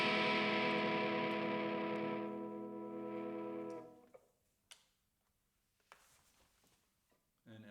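A semi-hollow body electric guitar on the middle pickup position, combining both pickups, rings out with a sustained strummed chord that fades over about four seconds, followed by a few quiet clicks and a brief return of the tone at the end.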